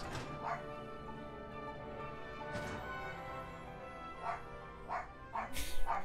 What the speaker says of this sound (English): Yeah, Benji's barking.